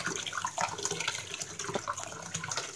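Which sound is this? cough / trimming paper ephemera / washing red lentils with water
washing red lentils with water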